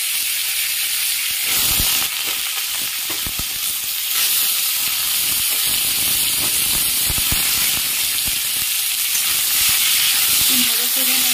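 Thinly sliced, washed mangoes hit a hot pan and fry with a loud, continuous sizzle and hiss that flares as they go in and keeps going steadily and up close.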